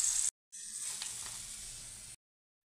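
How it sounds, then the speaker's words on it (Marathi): Corn kernels frying in hot oil over a high flame until golden, a steady soft sizzle and hiss that cuts out briefly, resumes, then stops abruptly. "आपल्याला हे गोल्डन रंगावरती तळून घ्यायचे आहे। गॅसची फ्लेम हायच ठेवायची।"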